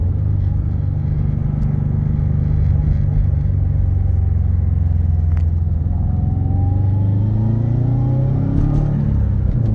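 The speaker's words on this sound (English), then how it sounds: "Exhaust sounds good." A 2018 Subaru WRX STI with a Perrin and Cobb aftermarket exhaust while driving: a deep, steady, close rumble that rises in pitch toward the end as the engine revs up.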